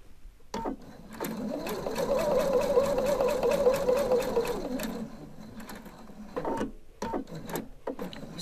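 A domestic sewing machine runs a diagonal stitch across a fabric collar, a steady rapid mechanical whirring for about four seconds, bracketed by short bursts of needle clatter and handwheel clicks before and after.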